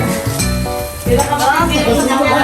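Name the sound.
seafood sizzling on a grill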